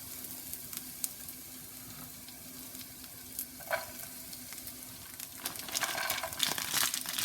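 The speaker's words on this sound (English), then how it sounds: "gonna saute it a little bit so they get nice and caramelized." Vegetables sizzle quietly in a pan while a utensil scrapes and stirs, the clatter growing busier toward the end; nobody speaks.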